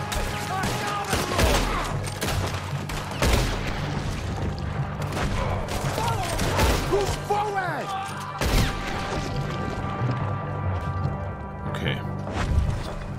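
Sustained gunfight in Red Dead Redemption 2, with rapid repeated shots and heavy booms, some cannon fire, running continuously under occasional voices and game sounds.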